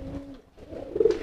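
A pigeon coos in a short courting call inside its cage, with a steady low tone that pauses and then returns as a louder, warbling coo close by.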